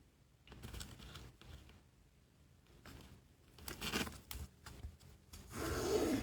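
A junk journal cover piece being cut, with quiet rasping, rubbing strokes coming in uneven bursts, louder toward the end, close by and with no voices.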